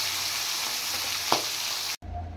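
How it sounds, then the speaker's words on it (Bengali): Fish sizzling in hot oil in a pan: a dense, crackling fry that runs steadily with one brief louder pop, then cuts off abruptly and resumes more quietly. "তেল গরম হয়ে গেছে, এবার আমি মাছগুলো ভেজে নেব।"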